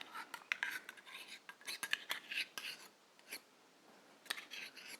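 Spoon scraping piña colada ingredients into a container, a close run of quick dry scrapes and light taps in short bursts, with quiet gaps between them.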